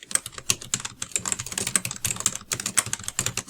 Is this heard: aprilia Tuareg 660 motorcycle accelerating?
no